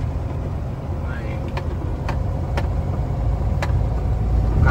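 A vehicle pulls away on a highway leaving New York toward Massachusetts, heard from inside a truck cab as a steady engine rumble that swells slightly toward the end, with someone talking over it.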